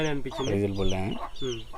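Young Bhimavaram chickens at a chick sale in Ongole give a few short, close clucks and calls in quick succession.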